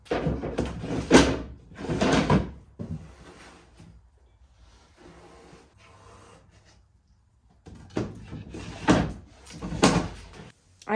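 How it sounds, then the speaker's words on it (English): Wooden dresser drawers slide in and out of a restored dresser, giving several scraping, thudding runs in two bursts separated by a quieter lull, close and fairly loud. "When I put the drawers back in place, I noticed they weren't sliding as smooth as they could be"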